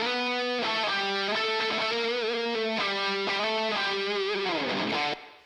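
Distorted rock lead guitar, heavily compressed and wet with plate reverb, plays a sustained, bending melodic line at an even, loud level for about five seconds before cutting off abruptly.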